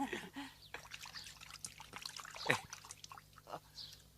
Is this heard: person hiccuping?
no